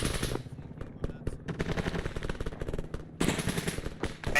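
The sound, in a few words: M240 machine gun firing in a video game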